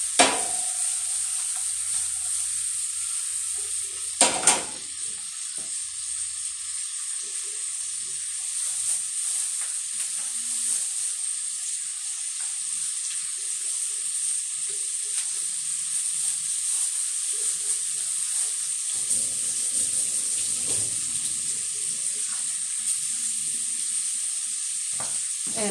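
Pork chops and vegetables fry in a hot pan with a steady, loud, continuous sizzle and hiss, with occasional stirring clatter and a couple of sharp knocks near the start.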